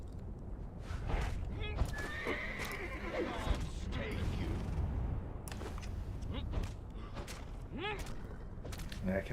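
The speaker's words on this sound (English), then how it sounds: "maybe he'll just get so distracted by the horse" A horse in the video game Mount & Blade Warband neighs and whinnies amid clip-clopping hooves and battle clatter, with a voice talking over the game sounds.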